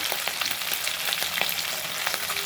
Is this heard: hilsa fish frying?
yes